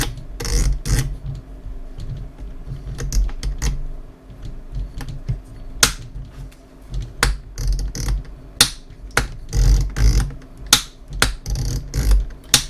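Crisp mechanical clicks of Athlon Ares ETR 1-10x rifle scope turrets in irregular bursts, some single and some rapid runs, close up with a quiet background.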